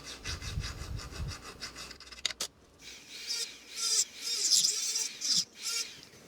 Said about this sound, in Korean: 그 다음에 잘라주고요.